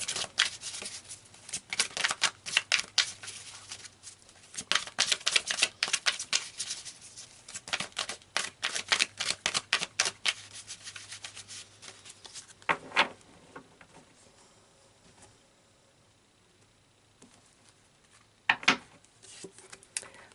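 Tarot cards are shuffled in rapid bursts of crisp riffling and flapping, with short pauses between rounds, close and fairly loud, with no talking.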